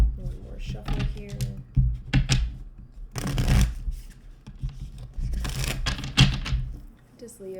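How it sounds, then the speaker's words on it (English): Tarot cards are shuffled in several quick riffling bursts, with soft slaps and handling noises between them, close up. "One more shuffle here."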